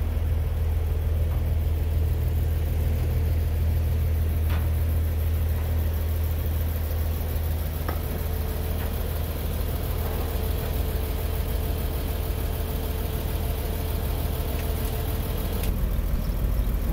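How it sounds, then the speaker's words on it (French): A tow truck engine hums in a steady low drone throughout, with a few faint clicks and knocks scattered over the continuous rumble. "je pars avec la dépanneuse"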